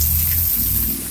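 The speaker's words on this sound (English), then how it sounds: "It's raining, it's pouring" Heavy rain pours down on a backyard that is starting to flood, a loud, dense wash of noise with a low rumble beneath, and no one speaks.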